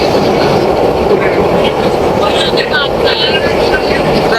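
A train rumbles loudly and steadily with rhythmic metallic clatter and squealing, crossing the long rail bridge over the Jamuna River up close.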